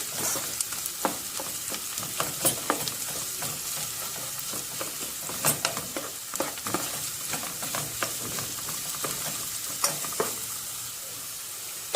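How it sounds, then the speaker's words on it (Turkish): Tomato paste sizzles and fries in a pan while being stirred, with crackling spits and scraping strokes recurring irregularly over a continuous close-up frying hiss. "Biraz salçamı kavuracağım kokusu çıkana kadar."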